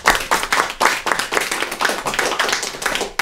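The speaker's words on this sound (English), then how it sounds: "he deserves a round of applause" A lecture audience claps for a library worker, separate hand claps in quick uneven bursts, fairly close and moderately loud, with no one talking over them.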